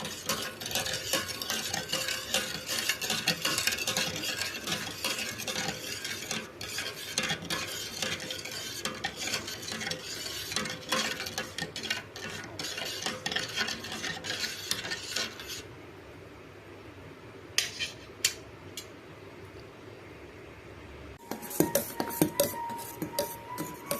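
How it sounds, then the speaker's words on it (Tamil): A spoon scrapes and clinks steadily against a pot as milk and sugar are stirred over low heat for mango ice cream, with a faint simmering sizzle. The stirring briefly quietens, then the scraping resumes near the end. "அப்படியே சிம்மில் போட்டு நல்லா அப்படியே மிக்ஸ் பண்ணிகிட்டே இருக்கோம்"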